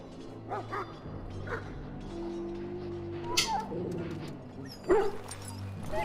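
A dog in the fantasy game Dragon Age: Origins gives a few soft yips and whimpers, spaced out over a low ambient game drone.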